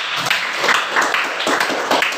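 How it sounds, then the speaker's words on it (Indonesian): Classroom applause for a pupil, a brief burst of many hands clapping in quick irregular patter, fairly close and steady across the whole moment. "Oke, tepuk tangan untuk Oden."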